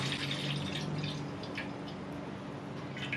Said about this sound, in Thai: เทน้ำมันนะคะ ที่เราเทเมื่อสักครู่นี้ ใส่ลงไปในกระทะเหมือนเดิม แบบนี้นะคะ